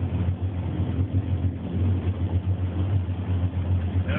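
Jet boat engine idling in forward idle mode during slow-speed maneuvering, a steady low throbbing drone with a faint pulsing rhythm, close and continuous.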